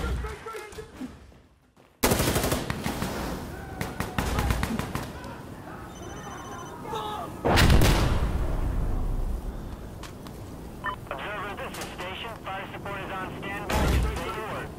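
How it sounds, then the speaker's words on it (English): Minigun support fire in the video game Insurgency: Sandstorm: loud booming bursts of gunfire and explosive impacts, several heavy blasts spaced a few seconds apart over a continuous rumble of battle. "call that minigun support in"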